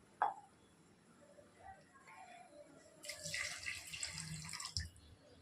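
Water poured from a glass into a cooking pot of tomato rice with masala, a splashing pour of a few seconds, fairly close and moderately loud, following a short clink.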